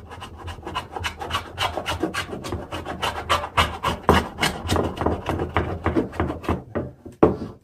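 Rhythmic rasping strokes of a hand plane shaving wood, repeated steadily and close up, with no talking.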